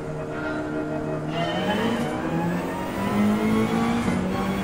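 Race car in Gran Turismo 7 at the Red Bull Ring pulling away from the start line, its engine climbing steadily in pitch through the gears with a sustained, close, loud whine and no talk.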